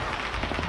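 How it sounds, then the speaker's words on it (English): Distant automatic gunfire rattles in rapid bursts during the Las Vegas mass shooting, recorded on a phone, rough and noisy with a steady wash of background noise. "You can hear the gunfire in the background."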